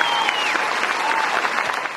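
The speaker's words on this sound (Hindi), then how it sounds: "मंत्री जी के सम्मान में जोरदार तालियां बजा दीजिए।" Loud, dense applause from a crowd at an Independence Day school function, clapping in honour of a minister. It is a steady, continuous roar of hands throughout, heard close and full.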